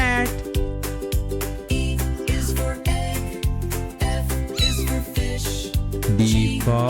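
A cartoon cat meows repeatedly in a children's alphabet song, the high meows sitting over a steady bouncy beat and a bright musical backing.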